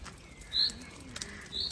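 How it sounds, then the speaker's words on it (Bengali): A bird calls twice outdoors in a park in Germany, two short clear notes about a second apart over quiet, faint background ambience. "দেখো পাখি ডাকতেছে।"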